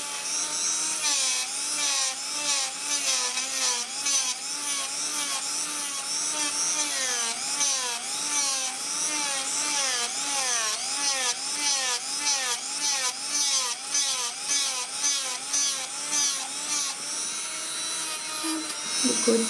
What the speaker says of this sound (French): je mets ma ponceuse pas au maximum, hein, parce qu'on ne veut pas retirer trop de matière